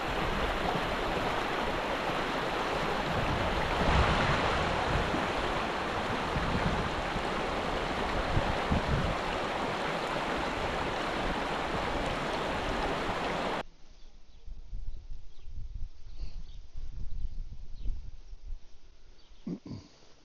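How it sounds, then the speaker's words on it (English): The Jordan River flows with a steady, broad rush of water, loud and constant at first, then drops to a quieter, thinner trickle with faint rustling for the last several seconds, with no voices. "Okay, we're now at the Jordan River."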